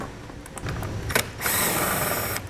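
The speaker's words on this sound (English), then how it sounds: "You'll use a 7mm socket to remove them from the lower bumper area." Power tool with a 7mm socket backing bolts out of the lower bumper area on a 2018 vehicle during a Roadmaster Direct-Connect base plate install; brief bursts of drilling whir, then a steadier sustained run, near and alone.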